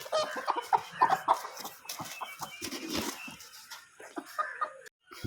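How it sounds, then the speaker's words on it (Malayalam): A five-to-six-month-old all-white rooster among breeding-set chickens, clucking and calling in a busy, fairly quiet farm scene, several birds vocalising in short overlapping bursts with some rustling. "ഫുൾ വൈറ്റിലെ പൂവനാണ്"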